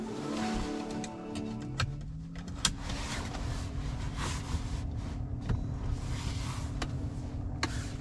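A 2023 Nissan X-Trail e-POWER SUV with 213 PS powers up from its start button, heard from inside the cabin as a steady low hum and drone that settles into a constant tone, with no talking.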